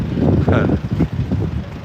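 Wind buffets the microphone in heavy, uneven gusts, a loud muffled roar that swells and dips throughout.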